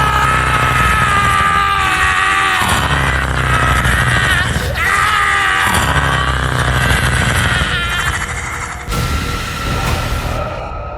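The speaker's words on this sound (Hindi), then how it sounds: "उन राहगीरों की चीखों से वो पूरा इलाका गूंज उठा" Passersby screaming in terror on a village road at night, heard as layered, sustained shrieks and yells that fill the space, joined by a roaring rumble and a harsh noisy burst near the end.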